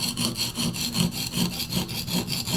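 A Condor Bushlore knife is ground to a Scandi bevel with steady, rhythmic back-and-forth scraping strokes, about seven in quick succession, close and fairly loud with no voices.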